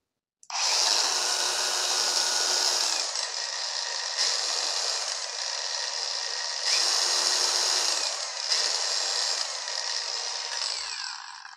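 Kamolee 5-inch cordless angle grinder with variable speed, running on an LXT battery: it starts abruptly and whines loudly and steadily at close range. Its pitch shifts several times as the speed setting is changed.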